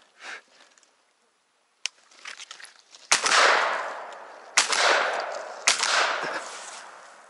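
Three sharp, loud shotgun blasts outdoors while duck hunting in Yakutia, each followed by a long fading echo, after a couple of softer rustles and a small click.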